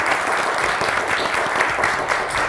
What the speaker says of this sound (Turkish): Hadi bir de kendinizi alkışlayın.